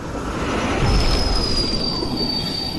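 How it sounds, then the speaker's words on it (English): Train wheels squealing in a VR zombie horror game, a loud grinding rumble with a thin sustained metallic screech running through most of the moment, no talk. "He's going to get hit by a train!"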